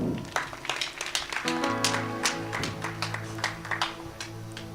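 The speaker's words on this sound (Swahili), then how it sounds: "Wapigieni makofi." Church crusade congregation applauding, a dense wash of clapping with a few sharp individual claps over sustained music and background voices.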